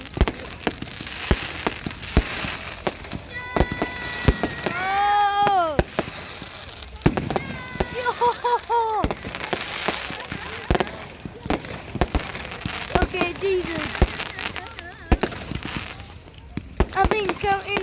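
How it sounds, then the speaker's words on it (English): Fireworks at a display burst in repeated sharp cracks and whistling rockets, some near and some distant, with crackling between bangs and voices talking in the background. "ain't counting a load of fireworks."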